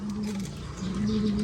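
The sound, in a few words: pigeons from Japan-line breeders cooing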